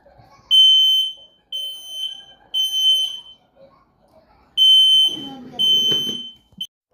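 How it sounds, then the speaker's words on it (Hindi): Smoke alarm set off by heavy smoke in a house, sounding a series of loud, shrill, close electronic beeps in spaced bursts, about five long tones, with brief background noise near the end. "असल में ना घर में धुआं हो गया था काफ़ी ज़्यादा, तो फिर अलार्म बजने लग पड़ता है"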